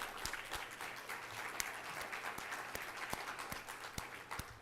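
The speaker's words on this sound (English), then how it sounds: "Rochelle, I think we need to applaud Rochelle." A meeting audience gives faint, distant applause, with scattered sharp individual claps standing out over a steady soft patter.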